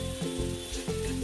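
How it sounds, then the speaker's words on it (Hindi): Turmeric, coriander and red chili powder roasting in a pan make a steady sizzle, with a low tonal hum and rhythmic scraping layered over it. "और मसालों को हम भून लेंगे।"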